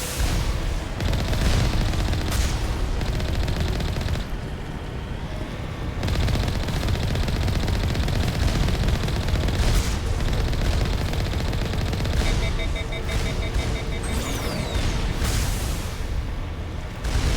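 Enemies fire heavy automatic weapons in Mass Effect Legendary Edition, with loud, continuous rattling bursts mixed with booms and explosions, a short lull midway, and electronic beeps near the end.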